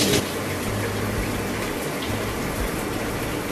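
Steady gush of shower water running as a rag is wetted, loud and continuous with no talking.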